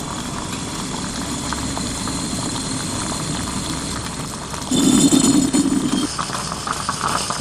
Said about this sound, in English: When the heated water boils, it turns to steam.